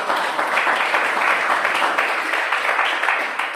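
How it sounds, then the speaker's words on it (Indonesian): A classroom of students applauds one of the student groups after its answers, a dense, steady burst of clapping that holds at full strength and fades slightly near the end. "berikan tepuk tangan untuk kelompok 3"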